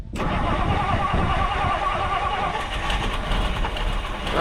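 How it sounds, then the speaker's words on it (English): A 1962 Ford Galaxie engine cranks and fires up close by, then settles into a loud, steady running rumble that continues without a break. "let's see if we can get it fired up again."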